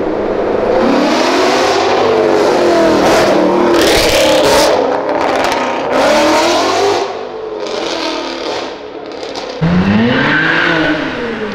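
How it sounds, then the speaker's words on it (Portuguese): A Mercedes C63 roars loudly while accelerating hard, its engine pitch rising and falling through repeated revs, close and sustained, with tire noise and a further surge near the end. "Dá um replay de novo pra vocês verem o ronco desse carro"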